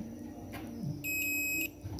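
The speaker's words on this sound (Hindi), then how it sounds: "इस साइड तो बीप आ रहा है" A multimeter continuity tester sounds one steady, shrill beep of about half a second while probing the charging circuit of a Jio F320B phone with a shorted charging input, over a faint background hum.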